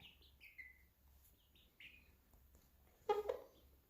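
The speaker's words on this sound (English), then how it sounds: "All the little clucks. All the little peeps there." Faint high peeps from small chicks chirp on and off, with a louder soft clucking burst near the end, close by in a quiet setting.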